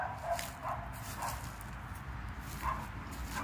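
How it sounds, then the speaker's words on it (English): Dogs bark out back behind a rental home, heard as faint, distant yips and woofs repeating every second or so over a steady low outdoor rumble. "those dogs are always barking out back"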